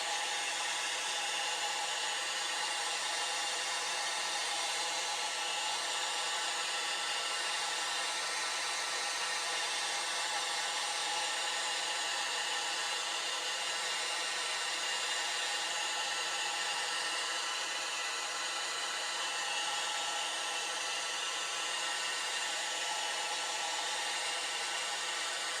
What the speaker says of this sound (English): I'm going to hit them again with the hairdryer to bring them